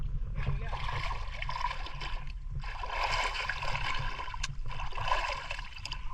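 Water splashing at Tansa Dam, with people playing and throwing water in a steady churn of splashes and waves; voices talk and shout over the watery noise throughout.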